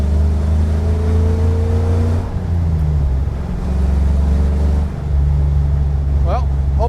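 A 1953 Allard K3 roadster's engine revs through the gears on a farm road, a loud steady low drone that dips briefly at each shift before pulling again, with a short higher chirp near the end.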